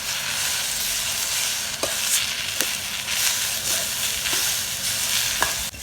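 Brahmi (vallarai) leaves and coriander sautéing in a pan for chutney, with a steady continuous sizzle and occasional sharp clicks of a spoon stirring against the pan, close and alone without speech.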